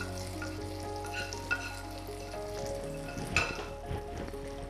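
Tempering being stirred into peanut chutney, with faint sizzling and soft scraping and clinking of a spoon in the pan, a few brief louder taps over a steady low background, no talk.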